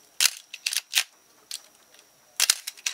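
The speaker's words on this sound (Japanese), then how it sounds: "F2 のシャッターのね音をねお楽しみください" A Nikon F2 film camera's mechanical shutter firing repeatedly, giving sharp, close, loud clicks in irregular bursts, some single and some in quick pairs, with brief silences between.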